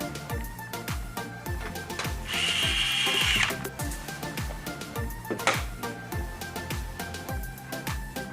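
Screwing together an LG home theater wireless receiver speaker: steady ratcheting clicks from a turning screwdriver or driver, close and fairly loud, with a sustained whir in the middle and no talking.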